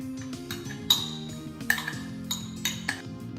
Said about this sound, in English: I'm just going to give this a really good mix.